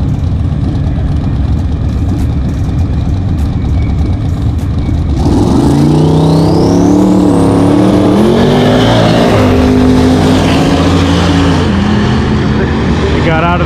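A Mustang drag race car at Lucas Oil Raceway during Drag Week, its engine rumbling loudly and then roaring up through rising revs and shifts, with a commentator talking over it.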